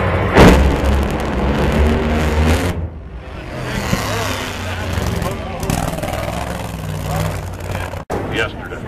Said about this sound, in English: Final pair of funny cars.